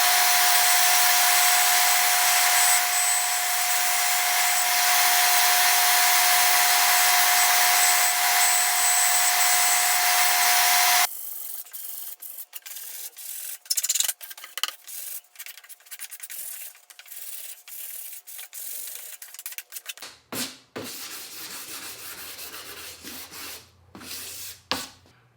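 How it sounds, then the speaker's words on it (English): After a steady droning noise, a sanding block rubs wood in short scratchy strokes, uneven in rhythm and fairly close. "these little sanding blocks are super handy for all kinds of things"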